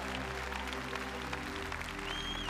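Applause from a worship-service audience in Australia, a steady, fairly quiet wash of clapping that continues throughout, with a low hum and ringing tones beneath it.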